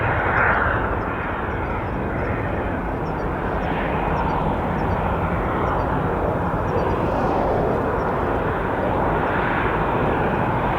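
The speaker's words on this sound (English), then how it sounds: "This is the Iberia Stockholm flight, A321." An Iberia Airbus A321 jet airliner flies at Madrid Barajas Airport, giving off a continuous, loud, broad roar that holds steady throughout.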